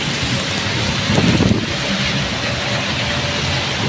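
Heavy typhoon rain and wind pour down steadily during Typhoon Carina, a loud, continuous broadband wash with a faint low rumble underneath and a brief swell partway through.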